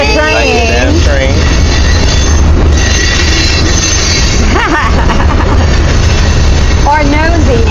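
A passing train with loud metal wheels squealing on the rails, a steady heavy rumble throughout with rising and falling screeches, while people talk over it.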